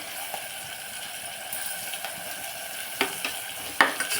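Tomatoes fry in a pan of rajma and drumstick curry with a steady soft sizzle, punctuated near the end by a few sharp scrapes and clinks of a spoon stirring.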